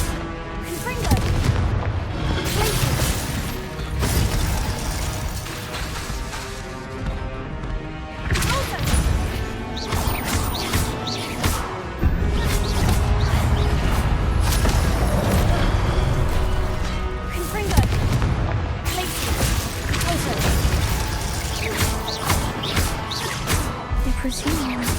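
Fire-blast spell explosions in the Hogwarts Legacy video game, a dense run of loud booms and crashes layered over background game music, with a voice casting spells between bursts.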